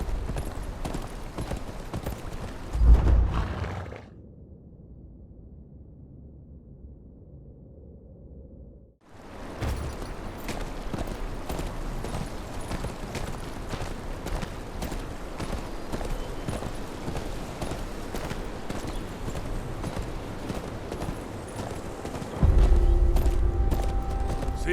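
Horse hooves clip-clop in the Game of Thrones Kingsroad video game, a steady rhythmic walk that drops out briefly to a quiet hum before resuming, fairly close and continuous to the end.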